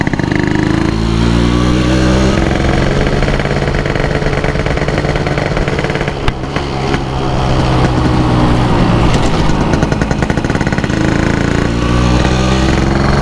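Yamaha RX Special 115cc two-stroke motorcycle with an oversize standard engine on a test ride, its engine droning loud and steady throughout, rising and falling with throttle changes and a brief dip midway.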